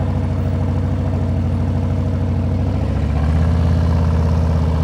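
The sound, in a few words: motorcycle engine at slow speed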